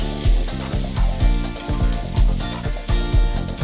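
Onions sautéing in a pan for chicken biryani, a steady close sizzle with repeated scraping strokes of a spoon and faint tonal music running underneath.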